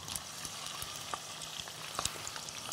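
Shrimp going into a hot cast-iron pan of gambas, giving a steady close sizzle of frying oil with scattered crackles and pops.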